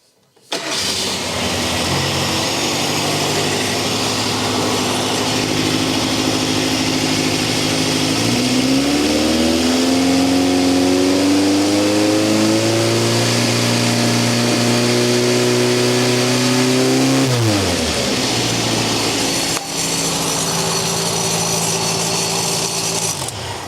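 Engine revving up to about 4,000 RPM with an additional muffler fitted: a loud, steady roar that climbs in pitch, holds for several seconds, then drops back to a lower idle.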